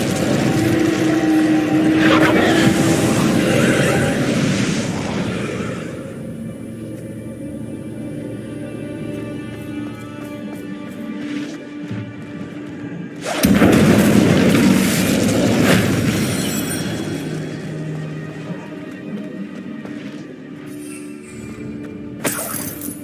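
A fire spell cast in Hogwarts Legacy bursts out with a loud, crackling roar that fades over several seconds, then a second forceful blast erupts midway and trails off into a rumbling tail.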